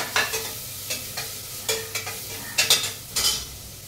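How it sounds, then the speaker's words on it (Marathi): Crushed ginger and garlic with tomatoes get stirred in a hot pan, repeated spatula scrapes and clinks in an irregular rhythm over a soft background sizzle. "आणि क्रश केलेलं हे आलं लसूण, हे सगळं आता परतून घ्यायचं"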